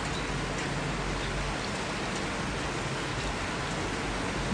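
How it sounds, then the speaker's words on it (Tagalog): Steady, dense rain pouring down suddenly over an onion seedling farm, a continuous broadband hiss with no voices, fairly loud and even throughout. "Bigla na lang siyang umulan."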